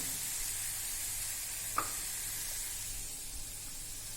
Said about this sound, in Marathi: वांगे वटाणे आणि हरभरे जे आहेत मिक्स केलेले ते आपण टाकूया यात